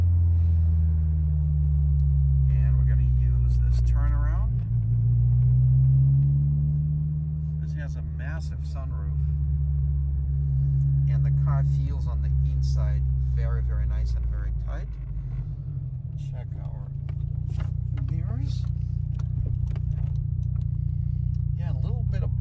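A 1988 Peugeot 205 GTi with a 1.9-litre engine drives on a road after dropping into third gear. Its steady, loud low engine drone and road rumble run throughout, with intermittent talking over it.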